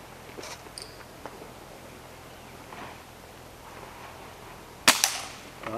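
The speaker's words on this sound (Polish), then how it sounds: "Padł strzał. Figurka się przewróciła." At a Hunter Field Target world shooting championship, a spring air rifle fires one sharp, loud crack at a field target 23 metres away, with a faint knock moments later, after quiet seconds filled with insect and cricket chirping.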